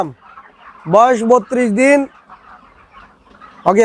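Broiler chickens on a farm clucking in short bursts, with a loud cluster of calls followed by quieter background clucks and another burst at the end.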